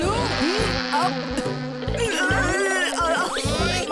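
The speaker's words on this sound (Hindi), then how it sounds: "मक्खी।" Cartoon housefly buzzing loudly and continuously close by, a wavering insect drone with pitch swoops as it darts around, no talk over it.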